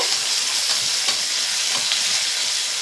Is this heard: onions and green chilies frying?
yes